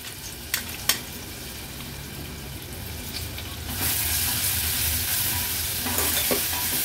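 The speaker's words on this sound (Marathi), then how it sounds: "हे जे वाटण आपण वाटून घेतलं ना, हे तेलावर थोडंसं परतून घ्यायचंय" Coarsely ground masala paste sautéed in hot oil in a pan, with a couple of sharp clinks of a spoon early on, then a louder, continuous sizzle and frying hiss that swells after the paste is stirred, with no talking.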